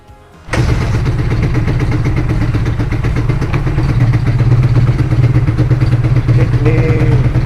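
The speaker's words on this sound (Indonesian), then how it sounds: "Ini motornya udah bisa nyala" After a short quiet moment, a carbureted Suzuki Satria FU motorcycle engine catches and starts, then keeps running loud and steady at a close, clattering idle.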